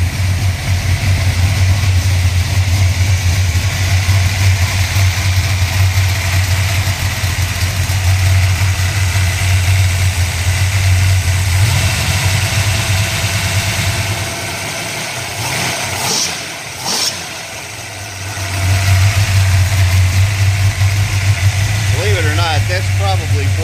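A 406 cubic inch V8 on pump gas idles at a high, lumpy rumble close by, steady and loud, dipping briefly midway before the throb resumes, with someone talking over it.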